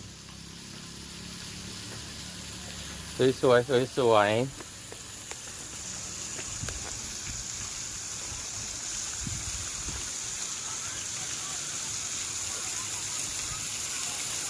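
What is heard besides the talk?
temple fountain water pouring from naga mouth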